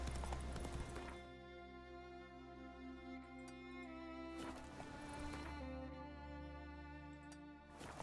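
A horse gallops in The Witcher 3 video game, its hooves beating a steady rhythm with tonal game music or ambience ringing beneath, and a brief louder burst near the start and again midway.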